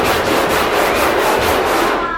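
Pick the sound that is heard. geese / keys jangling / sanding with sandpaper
sanding with sandpaper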